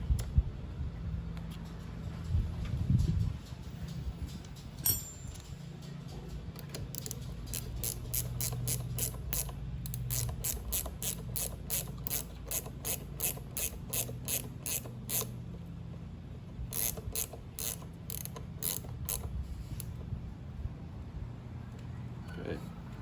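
Ratchet clicking as a bolt is tightened on a Honda CRF250L brake fluid cooler install, rapid bursts of close, sharp clicks in several runs with short pauses between.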